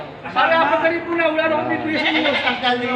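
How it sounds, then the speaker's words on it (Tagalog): Goats being weighed for sale at a livestock market bleat repeatedly in wavering, overlapping cries, loud and close, over a busy market background. "Dito ho tinitimbang ho ang kambing."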